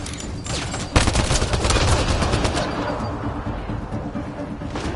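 Gunfire in Mass Effect Andromeda, a dense burst of rapid automatic shots starting sharply and fading into a rumbling battle background.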